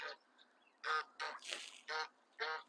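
Geese honking on a farm in Japan, a series of five or six loud, harsh, nasal honks in quick irregular bursts, close by with no talk.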